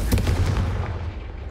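A Confringo spell explodes in the Hogwarts Legacy video game with a loud, close, booming blast that rumbles and fades over about a second and a half.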